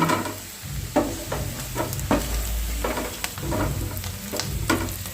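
Potatoes fried again in hot oil on a high flame for Kashmiri aloo dum, a continuous loud sizzle broken by repeated scraping stirs of a spatula in the pan, with no voices.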